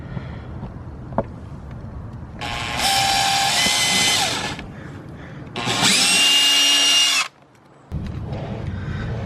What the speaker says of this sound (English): and then drill in a little hole